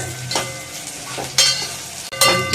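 Onions sautéing in a pan with dried red chillies for white chickpea sundal, a steady sizzle with loud stirring scrapes at intervals, close and clear without talk.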